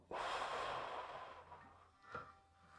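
A slow, deep breath taken during a tantra yoga practice, one long soft airy exhale or inhale, very quiet and close, with no talking.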